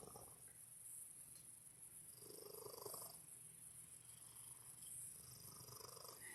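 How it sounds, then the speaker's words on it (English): Harry the cat purrs steadily and softly up close, a continuous low rumbling with gentle swells on each breath and no other sounds over it. "I've got Harry the Cat purring for you in hi-fi stereo"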